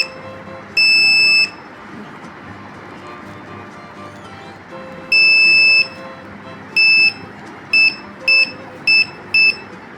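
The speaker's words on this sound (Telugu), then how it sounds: "ఇది వచ్చి బజర్ అన్నమాట" A small electronic buzzer on a PCB circuit sounds loud shrill tones: one long beep, a second long beep, then five short bursts in quick succession, over faint background noise.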